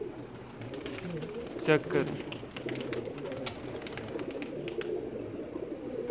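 A flock of pigeons coo and flutter outdoors over steady background noise, with a brief louder burst of wing flaps; a person speaks briefly.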